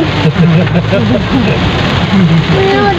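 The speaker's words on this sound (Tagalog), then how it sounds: "Umuulan. Ang lamig-lamig." Rain patters on surfaces in a steady, loud hiss while people talk over it, along with some low rumble that might be passing traffic.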